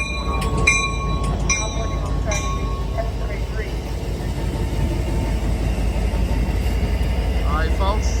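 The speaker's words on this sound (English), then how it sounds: "now this train is getting terminated, 733 Capitol Corridor train" An Amtrak Capitol Corridor train led by an F59PHI locomotive idles at Emeryville station as it terminates, giving a steady loud rumble with brief high squeals and tones, while people talk nearby.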